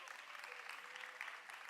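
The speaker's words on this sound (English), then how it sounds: "So let's give them a round of applause." Steady, faint applause from a school event crowd welcoming the Jamaica College drummers' performance, an even patter of many hands held at one level for under two seconds with no voice over it.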